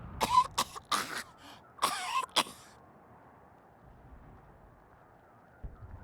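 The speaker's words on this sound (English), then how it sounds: "A fit of coughing takes her" A woman coughs in several harsh bursts over the first few seconds in the video game Wasteland 3, then quiet low background follows.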